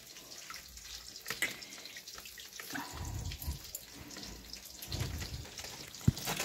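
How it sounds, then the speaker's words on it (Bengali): Rice being rinsed by hand in water in a home kitchen, with a steady watery swishing and trickling close by, a few louder splashes and knocks standing out toward the end. "আর আমি চালটা ধুয়ে নিই"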